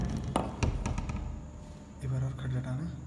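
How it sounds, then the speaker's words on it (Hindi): Several sharp knocks on a door, spaced unevenly in the first second or so, followed by voices talking nearby. "एक बार और खटखटाना, एक और बार खटखटाओ"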